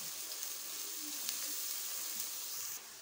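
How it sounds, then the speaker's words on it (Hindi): Garlic-ginger paste fries in hot oil with onions in a pan for a mutton kofta curry, giving a steady close sizzle throughout with a few soft stirring ticks and no talk. "इसमें हम डाल देंगे लहसुन अदरक का पेस्ट इस तरीके से, और इसको अच्छा सा हल्का सा फ्राई करते हैं"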